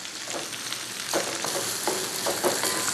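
Sliced ginger and garlic sizzle and fry in hot sesame oil in a wok, a steady crackling hiss with a few stirring scrapes, close and alone.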